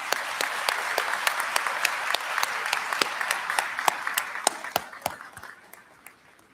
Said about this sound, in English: Please join me in one more round of applause for our honorary degree recipients, Sandra Govin and David Watson.